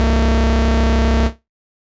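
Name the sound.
layered synthesizer oscillators bass pad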